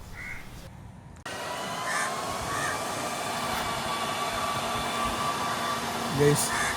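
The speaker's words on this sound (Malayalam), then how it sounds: "ഫ്ലൈറ്റ് പോകുന്ന ഫാനിൻ്റെ സൗണ്ട് വരുന്നുണ്ട്." The cooling fan of an MG Windsor electric car whooshes as the car charges at home, a broad steady rush that starts abruptly and holds constant, with faint background sounds.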